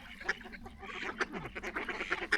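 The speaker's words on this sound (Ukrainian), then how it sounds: "Ще більше качок злетілося" Several wild ducks quack repeatedly at close range in freezing winter weather, overlapping calls in a lively, irregular chatter.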